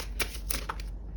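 A tarot card is slid from the bottom of a deck with a few quick, soft papery snaps and flicks, close by, in a brief, quiet moment without speech.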